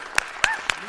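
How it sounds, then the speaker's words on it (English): A few sharp, separate hand claps at a city council meeting, spaced about a quarter second apart, crisp and close, with no voices over them. "Let's give her a big round of applause"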